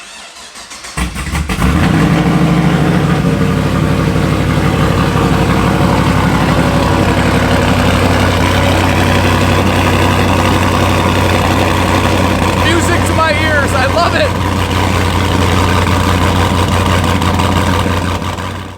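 A car engine cranks and catches after a brief quiet start, then settles into a loud, steady, close-up idle with a constant low drone that runs for many seconds before cutting off.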